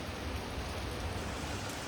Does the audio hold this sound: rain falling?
yes